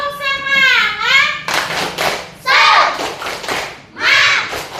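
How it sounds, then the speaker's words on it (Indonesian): Classroom of children doing a rhythmic clapping chant, quick bursts of hand claps alternating with shouted group chanting, close and loud, with a teacher's voice leading. "Tepuk semangat."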